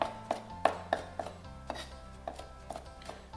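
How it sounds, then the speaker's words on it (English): A knife chops cilantro back and forth on a cutting board, giving a series of crisp, close taps at an uneven, fairly quick rhythm with no voices. "I'm just chopping the cilantro back and forth"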